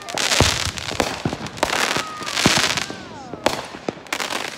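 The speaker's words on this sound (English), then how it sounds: "I'm gonna see this next firework." Fireworks at a 4th of July celebration, a rapid series of sharp close bangs and crackling bursts with whistling rockets between them, loud outdoors, with voices faintly underneath.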